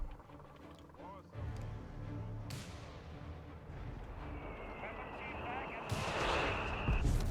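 Mortar smoke rounds firing in the strategy game Company of Heroes 3: a few dull thumps and bursts sit beneath steady battle noise that swells toward the end, with a commentator talking over it.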